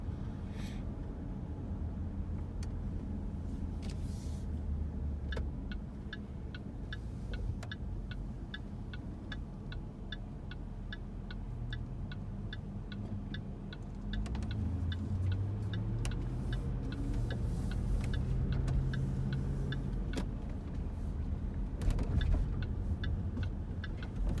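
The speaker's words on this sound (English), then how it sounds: "It's 9 o'clock in the morning, so there's quite a bit of traffic still." Morning road traffic in Louisville, a steady wash of passing cars with engines swelling louder toward the end, accompanied by a regular ticking beat throughout.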